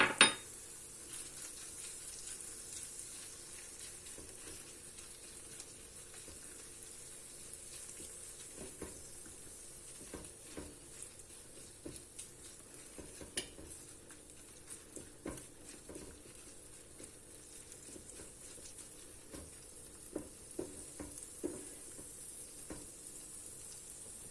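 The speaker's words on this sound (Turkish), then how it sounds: "Kavrulan kıymamızın içine salçamızı da ekleyeceğim şimdi." Ground beef browning in a pan with tomato paste and spices stirred in gives a steady, soft sizzle with intermittent scrapes and clinks of a utensil against the pan.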